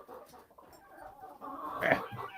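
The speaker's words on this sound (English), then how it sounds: "Big fluff ball goose." A big fluffy Neapolitan goose honks and calls from close by on a small farm flock, a harsh rising cry near the end over quieter grunting sounds.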